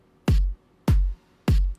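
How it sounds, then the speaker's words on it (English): Three evenly spaced, loud electronic hits from a slow drum pattern built in FL Studio, each a punchy kick with a sharp attack and a booming low tail, played alone. "It's really just a very slow pattern with a snare and a drum"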